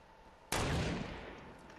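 A single loud gunshot cracks out in the video game Fortnite after a quiet moment, then leaves a long, fading echo.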